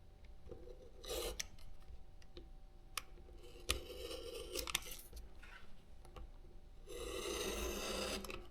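Poster board being cut around an acrylic template for a cowboy-hat project gives several short, faint rasping strokes with pauses between them and no talk.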